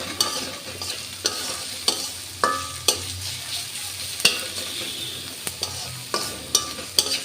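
Chopped onion frying in a pan with cumin, a dense close sizzle broken by regular stirring strokes and sharp clacks of a spatula on metal, with no voices.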